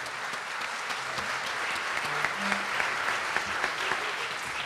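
A concert audience at a big band performance gives sustained, even applause for a performer, a thick wash of clapping from a large crowd that holds at a steady level throughout.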